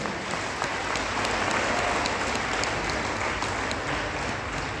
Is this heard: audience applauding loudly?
yes